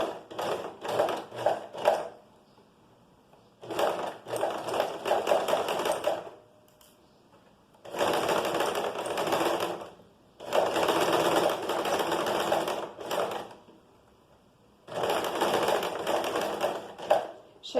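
A sewing machine stitches fabric for a top around a curved armhole, running in five rapid bursts separated by short pauses, close and clear with no talk.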